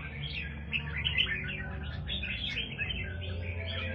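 A red-whiskered bulbul sings a run of bright, warbling chirps close by, lively and continuous over a low background hum.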